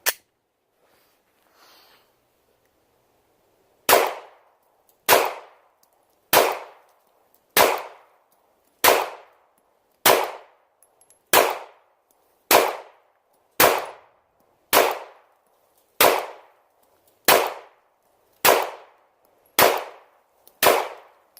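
A Glock 19 Gen 5 pistol fires PMC Bronze ammunition at a shooting range: about fifteen sharp, loud shots at a slow, even pace of roughly one per second, each ringing briefly, with no talking.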